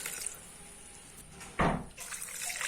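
Water poured into a cooking pan while making a leafy greens tovve, heard as a short, loud splash after quiet background kitchen sounds, followed by a softer liquid trickle.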